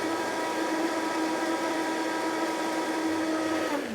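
An electric blender whirs steadily, mixing French toast batter with vanilla and spices, a loud continuous motor whine held for several seconds before it begins to wind down, with no voices.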